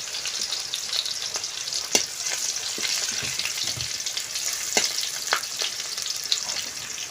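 Green chilies and five-spice seeds hiss and sizzle in hot oil for a Bengali dish of small fish with Malabar spinach, making a steady crackling fry broken by a few sharp pops and spatula taps.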